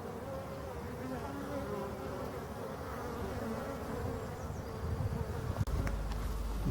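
Local Brittany black honeybees hum as a dense, steady buzz at the hive entrance on a cool day around nine degrees with a bit of sun, the swarm noise continuous and close with a slight rise near the end.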